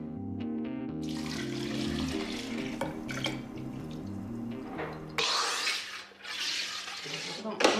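Homemade cola made with orange, lemon, nutmeg and orange blossom fizzes with a rushing, hissing bubble sound in two bursts, after a stretch of background music.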